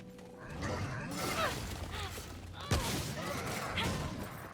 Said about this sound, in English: God, I love how good shotguns are.